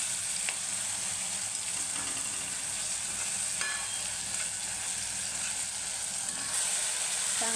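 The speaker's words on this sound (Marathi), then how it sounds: "दोन 3 मिनिट मी असंच परतणार आहे." Masala for black-eyed pea usal frying in a pan, a continuous close sizzle with occasional faint stirring scrapes, steady throughout with no talking.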